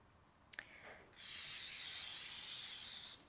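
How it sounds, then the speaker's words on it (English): Olive oil cooking spray is sprayed onto food, a steady loud hiss lasting about two seconds close to the microphone, preceded by a few small clicks from the can. "This is like an olive oil spray."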